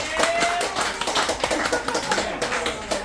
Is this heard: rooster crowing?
no